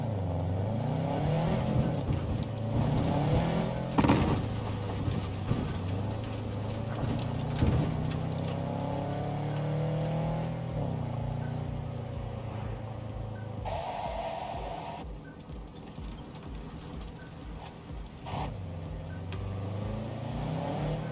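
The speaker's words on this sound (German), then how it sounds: "Der hat auch einen geilen Sound, der Wagen." A continuous car engine in the video game Cyberpunk 2077 drones and revs throughout, pitch rising and falling with gear changes, steady and fairly loud with no pauses.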